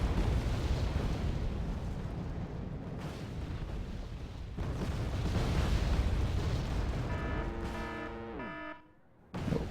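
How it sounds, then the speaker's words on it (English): Cluster bombs bursting over Challenger tanks in the war strategy game Wargame: AirLand Battle, a dense rumbling barrage of blasts with sharp bangs near three and four and a half seconds, ending in a falling tonal sweep and a brief drop-out. "those Challenger will receive a lot of cluster bomb"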